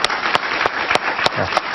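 Studio audience applause on a Spanish-language talk show interview with Antonio Marval, a dense burst of clapping with a few sharper individual claps standing out.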